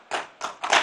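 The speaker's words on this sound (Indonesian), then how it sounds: "yang paling keras tepuk tangan kawan-kawan PDIP" Three short bursts of clapping from an audience of PDIP party members at a cooperative launch event in Klaten, each burst loud and brief, separated by short gaps, with no talk.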